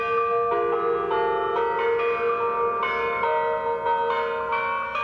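Purdue's new bell tower rings out in 1995, its bells striking one after another in a steady, resonant sequence of clear, sustained pealing tones, loud and close, with no voices.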